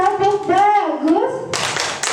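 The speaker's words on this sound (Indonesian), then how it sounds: "Beri tepuk tangan aja, beri tepuk tangan" A small group claps together for a few seconds at a teacher-training session, right after a speaker's voice. The clapping is a dense, close patter.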